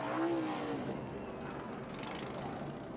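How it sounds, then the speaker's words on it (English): ARCA stock car with an exhaust leak, racing at Pocono, gives a steady raspy engine drone at moderate distance with no real pitch sweeps, a rough, lawnmower-like rattle running unbroken throughout. "You can hear that exhaust leak. Sounds like a lawnmower."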